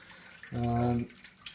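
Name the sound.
water running from tap into brewing vessel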